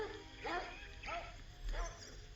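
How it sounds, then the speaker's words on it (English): A dog barks from behind a castle wall, three rough, drawn-out barks spaced about half a second apart, fairly faint over a low hum. "from which a hideous barking could be heard"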